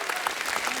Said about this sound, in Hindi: गजराज राव जी के लिए जोरदार तालियां